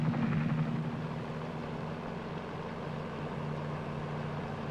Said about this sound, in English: the other helicopter is landing the Pathfinders who will operate the various landing sites